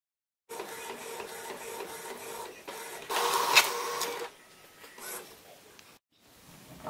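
An inkjet-style printer runs a design onto glossy photo paper, its mechanism whirring steadily for several seconds with a louder, busier burst midway, then quieter carriage and feed movements before it stops, with no talking.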